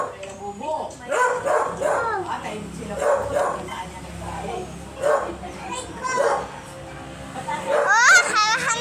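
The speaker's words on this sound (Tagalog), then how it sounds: "Kagagalit na yung aso!" An angry dog barks in a rural Philippine yard, several sharp barks spread across the stretch, while people talk and laugh loudly nearby.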